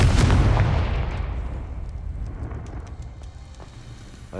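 A Confringo fire spell explodes in the Hogwarts Legacy video game: a loud, close blast that opens with a heavy booming burst and then rumbles and crackles as it fades over several seconds, with no voices.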